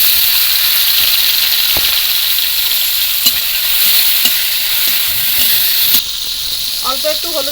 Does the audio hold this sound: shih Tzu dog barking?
no